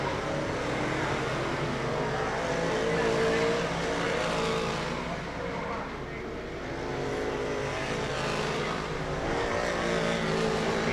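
A pack of 358 Modified race cars, billed as loud and dirty, roars around Cornwall Motor Speedway in a steady, dense engine drone that swells and dips slightly as the field passes, with a voice faintly audible underneath.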